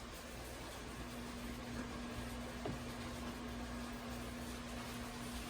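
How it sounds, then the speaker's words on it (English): A microwave oven hums steadily with a faint, constant drone and broadband whir, quiet and unbroken throughout. "you hear the microwave in the background"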